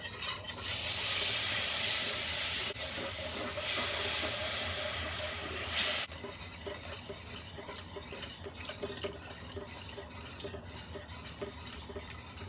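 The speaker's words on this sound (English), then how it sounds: "Next we're going to add in 1 cup of whole milk." One cup of whole milk poured into a hot flour roux for a lasagna dip sauce, a loud sustained hiss for several seconds that drops to a quieter bubbling crackle.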